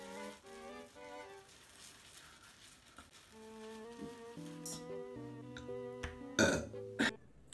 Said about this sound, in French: Elle rote devant vous.